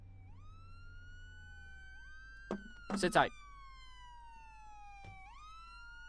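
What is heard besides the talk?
police sirens in a video game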